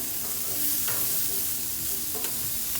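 Steak sizzling steadily on a hot grill over lower heat, with a bone-in cut among the meat; a continuous crackling hiss with faint pops, fairly close and alone.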